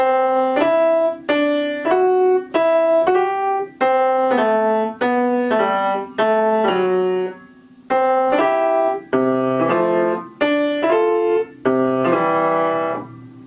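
Fast piano exercise of acciaccatura grace-note crushes leading into chords, played in quick bursts with brief pauses between phrases, clear and up close.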